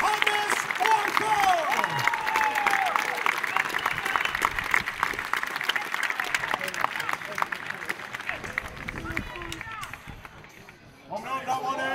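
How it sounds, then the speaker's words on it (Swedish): A crowd cheers and claps for a strongman at a 200 kg log-lift event in Sweden, a continuous wall of shouting and applause with voices throughout that dips briefly near the end. "Vill du höra publikens jubel för femfaldiga Sveriges starkaste man, Johannes Årsjö!"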